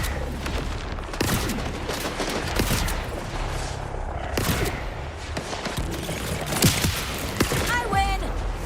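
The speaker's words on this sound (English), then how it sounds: "I'm really trying to get a good feel for this sniper rifle." Sniper rifle fire and combat in Borderlands 4 on PS5, with sharp gunshots and bursts cracking irregularly through busy game noise and effects, some shots loud and close.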